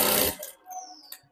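A sewing machine runs a short burst of stitching on a blouse, loud and close for a fraction of a second, then stops and leaves faint clicks and a quiet tone.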